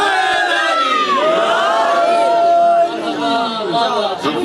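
A crowd at a religious majlis chants slogans for Ali, many voices rising and falling together in loud, sustained calls that dominate throughout.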